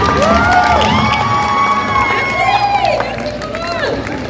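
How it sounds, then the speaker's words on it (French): A festival crowd at a Japan-themed event in Tours applauds and cheers loudly, with whoops and children's shouts in a dense, continuous roar over a singing or speaking voice. "Est-ce qu'on peut les applaudir plus fort, s'il vous plaît?"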